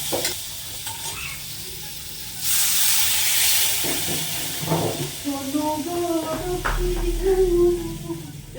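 Fish cooks in an iron wok with a burst of hissing sizzle and stirring scrapes, while a voice talks over the later part.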